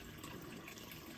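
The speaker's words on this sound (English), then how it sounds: "Sorry for the noise here on the water." Water running steadily through a Rheem tankless water heater, a faint, continuous rushing flow with no talking.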